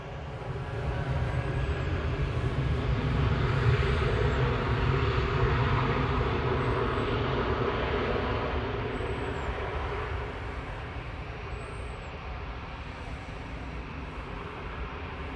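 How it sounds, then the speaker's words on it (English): A Jet2 airliner's engines roar at maximum take-off power at Manchester Airport, a loud broad steady rumble that swells and then slowly fades as the plane rolls away, heard from outside. "Jet 2's at max power, I think."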